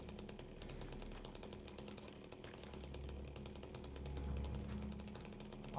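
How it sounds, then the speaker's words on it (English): Distant chainsaw in the Silent Hill 2 Remake video game, a steady buzzing drone with fast rhythmic pulsing that swells slightly louder toward the end, heard alone at a moderate level. "supposedly I can hear, like, a chainsaw"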